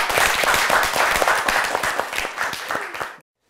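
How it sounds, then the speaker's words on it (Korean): An audience at a lecture claps together in a dense, steady round of applause that keeps going for a few seconds, then cuts off abruptly. "두려움 없어지라고 박수 한번 주십시오"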